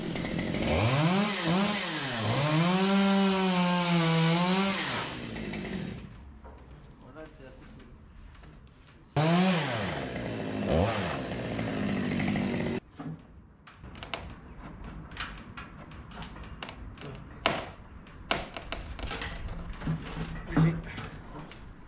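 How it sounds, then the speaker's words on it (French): A freshly sharpened chainsaw revs and bites into wood, cutting it into small pieces, with loud bursts of engine whine rising and falling twice, then quieter idling, knocks and clattering of wood. "On utilise une tronçonneuse parfaitement affûtée et on débite par petits morceaux"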